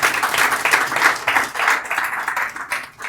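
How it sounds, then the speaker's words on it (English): An audience at the unveiling of the Pacific Lagos showroom applauds, loud close clapping rising and falling in waves before tapering off, with no one speaking over it. "I think we deserve a round of applause."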